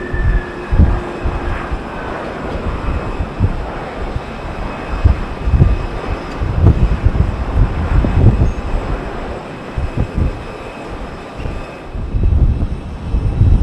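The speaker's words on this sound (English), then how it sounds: "Delta 767 coming in from Atlanta. A bit of noise." A Delta Boeing 767 airliner comes in to land at Heathrow, a loud sustained engine roar with rumbling low end heard from close by along the airport perimeter.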